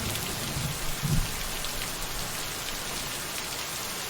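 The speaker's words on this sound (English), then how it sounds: "Good bit of rain noise" Steady rain falls outside, a dense even hiss with a couple of soft low thumps early on, continuous and fairly loud throughout with no voices.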